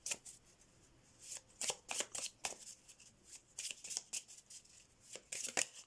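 Deck of channeled message cards shuffled by hand close up, a steady run of crisp riffling bursts and soft slaps with brief pauses between, no talking.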